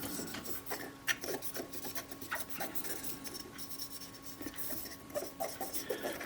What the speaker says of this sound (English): I'll clean the top housing with a bit of naphtha on a cotton bud.